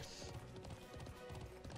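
Horse hooves clip-clopping steadily as a horse is ridden in the Alicia Online video game, a faint, even rhythm of quick hoof beats throughout.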